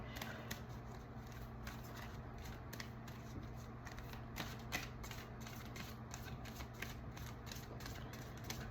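Tarot cards are shuffled and drawn in a steady run of soft, rapid riffling clicks and papery flutters, close and continuous over a low room hum, with no voices.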